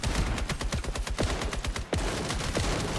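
Rapid shotgun blasts in the online shooter FragPunk, a dense run of loud sharp bangs in quick succession with a brief gap near the middle, then more fire.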